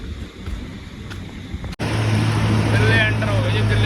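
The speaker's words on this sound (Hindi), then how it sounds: "पंप पे ट्रैक्टर लगा रखा है जी, निकालते हैं जी।" A tractor engine drives a water pump at night, its steady low drone starting abruptly after a sharp knock and running continuously and close, with a voice over it.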